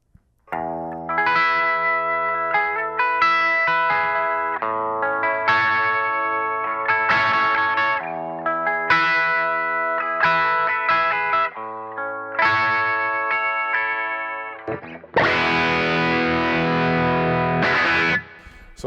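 An electric guitar played through a Tone Sculptor filter effect strums chords with a distorted, chorused, echoing tone, loud and sustained, turning brighter and fuller near the end.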